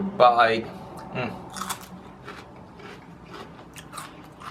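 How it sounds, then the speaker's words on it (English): Crunchy celery bitten during a mukbang, with a loud crisp snap up front and another bite soon after, followed by quieter chewing and scattered mouth clicks close to the microphone. "We're going to start like always with the celery, y'all. Take a bite."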